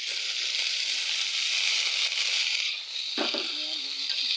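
Chopped garlic, green chilli and leaves fry in a pan with a continuous hissing sizzle and a brief clatter of stirring near the end, close and unaccompanied by speech.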